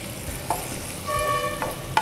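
Potatoes frying in a pan with turmeric, curry leaves and chopped green chilies, a steady close sizzle with a few soft clinks and scrapes of a spoon stirring, no talking.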